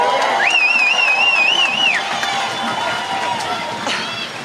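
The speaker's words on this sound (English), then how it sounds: "What an awesome crowd." A large crowd at an outdoor freedom rally in Wellington cheers loudly and steadily as a speaker is welcomed, with a long wavering whistle rising above the roar before the noise eases slightly.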